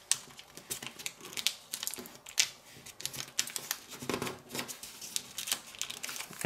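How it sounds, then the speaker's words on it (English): Paper being folded into an origami crane gives soft, continuous crinkling and creasing, with quick rustles and taps close by and no talking. "And now fold this bottom point up on this edge and tuck it into the pocket."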